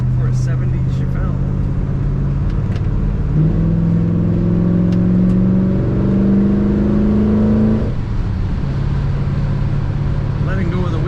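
A 1970 Chevrolet Chevelle driving and cornering, its steady engine drone rising in pitch mid-pass before settling back, with continuous road and wind noise throughout.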